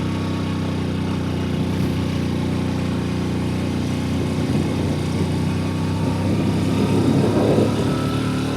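Hero Splendor motorcycle in second gear climbing a hill at Dim Pahar, Bandarban, with a steady, loud, low engine drone that swells slightly toward the end, with no voices.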